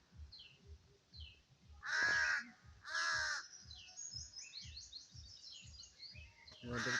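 Crows caw at a cat up in a tree: two loud, close, harsh caws in a row, with fainter bird chirps and calls around them.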